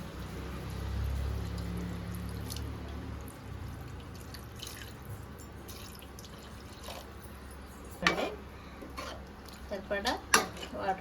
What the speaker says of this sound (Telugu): దీంట్లో ఉడకటానికి కొంచెం వాటర్ పోద్దాం.